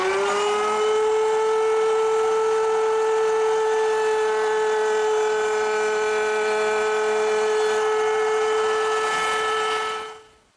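A router cuts a dado in a narrow wood rail guided along a high fence, giving a loud, steady high-pitched whine for about ten seconds before spinning down abruptly.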